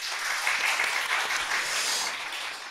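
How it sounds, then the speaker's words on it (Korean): A church congregation gives a round of applause during a Sunday service, a dense steady wash of many hands clapping for a few seconds, moderately distant and unbroken, with no voices over it. "우리 박수 한번 줄까요? 박수 한번."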